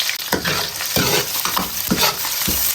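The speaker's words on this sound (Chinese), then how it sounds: "葱姜蒜爆个香" Scallion, ginger and garlic sizzle in hot oil in a wok, a loud crackling fry broken by several scraping stir strokes at an irregular pace.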